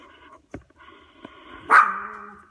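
Pet dogs at home give a couple of short, sharp barks and then a louder yelp-like bark, fairly close in an otherwise quiet room.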